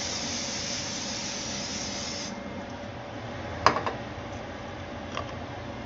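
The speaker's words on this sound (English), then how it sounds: "I have the butter spray." A steady hissing spray of butter spray runs for a couple of seconds, then fades into a low background hiss broken by a few faint clicks.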